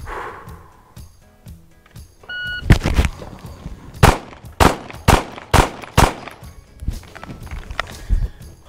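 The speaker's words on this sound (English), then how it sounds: "This will be on the beep, draw and fire 5 rounds of the B8 circle." Range pistol drill: a short electronic shot-timer beep, then five sharp, loud handgun shots fired at an uneven quick rhythm, with lighter clicks and shuffling around them.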